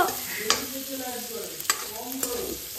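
Onions and green chilies fry in oil with a light sizzle. Several sharp clicks and scrapes from a utensil stirring the pan break through at intervals.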